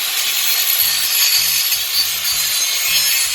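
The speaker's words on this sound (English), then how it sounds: "just sharpen that blade" A blade, apparently a lawn mower blade, is sharpened with a steady, close, abrasive grinding rasp that continues unbroken, with faint low knocks beneath it.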